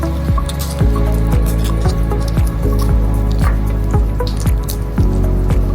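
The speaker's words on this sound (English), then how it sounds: "let me take the head of the shrimp away, and then peel this shell" Raw shrimp being peeled by hand, head pulled off and shell stripped, giving a run of close, wet squishing clicks and drips that repeat in a steady rhythm over a low background hum.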